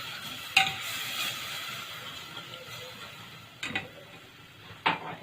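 Milk being stirred in a pot while making Nescafé, a soft continuous scraping swirl with a few sharper utensil knocks against the pot, close and moderately quiet with no talking.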